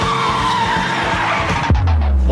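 Car tyres skid as a vehicle pulls in to park, a continuous screech ending abruptly in a low thud after about two seconds, loud and close.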